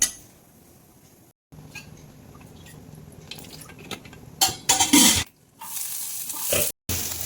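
Spices crackle and sizzle in hot oil in a pan while chicken parts are roasted, with stirring and clinking, and two loud bursts of frying partway through.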